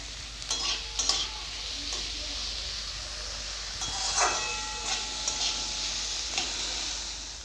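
Green chilies and chopped onion frying in a pan for masala paratha filling, a steady sizzle and hiss close by, punctuated by several clacks of a spatula stirring against the pan.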